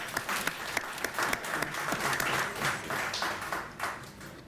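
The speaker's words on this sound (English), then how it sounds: "so let's give him a round of applause." An audience at a community fund launch gives a steady round of applause, dense overlapping claps at moderate distance with a few sharper individual claps standing out, no talk over it.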